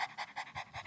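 A person imitates a dog panting, producing about five quick, rhythmic, breathy huffs close to the microphone with no other sound.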